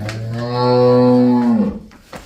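A heavy, well-built buffalo on a dairy farm gives one long, deep, loud low, steady and close, fading out at the end.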